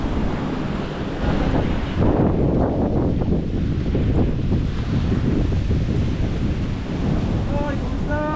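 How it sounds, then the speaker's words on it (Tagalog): Sea waves and gusty wind near the shore, a loud, constant roar of surf with heavy wind buffeting the microphone throughout, and faint voices in the background. "Lapit ang dagat dito."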